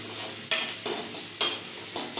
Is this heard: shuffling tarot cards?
no